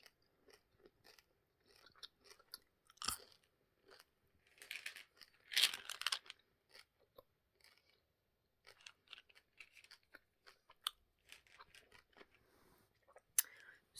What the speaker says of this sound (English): Gonna chew some gum for you.